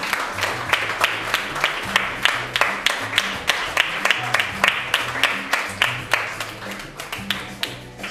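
Audience applause at a studio show, steady rhythmic clapping in unison with a regular beat throughout, loud and close, with a faint music-like hum underneath and no clear talking.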